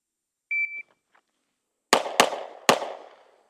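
Sig P365x Macro Comp pistol fired at a target, a shot timer beep followed by three sharp, loud, closely spaced gunshots with short echoing decays.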